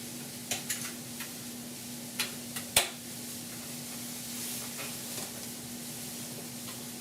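Welding 16 gauge steel patch panel into a rusted core support on a 1969 C10, a steady sizzling crackle with a few sharp pops and ticks over a constant hum, fairly quiet and without talk.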